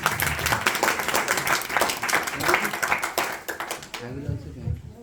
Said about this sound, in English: Please give a round of applause to Joshi family.